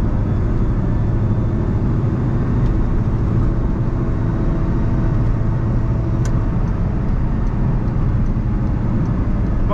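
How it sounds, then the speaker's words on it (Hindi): Steady, close engine drone and road rumble from inside a 2006 Honda City pulling in fourth gear, a continuous even hum with no talking. "देखिए अभी मैं ये फोर्थ गियर में थी और गाड़ी उठती है"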